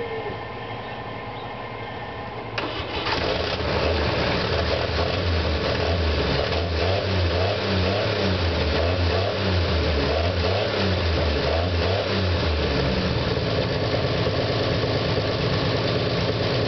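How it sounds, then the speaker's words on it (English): A 1959 Chevy truck engine, parked for 20 years, cranks and catches about two seconds in, then settles into a loud, steady, lumpy idle that runs on without any talking. "Now, we're gonna fire it up and hear it run"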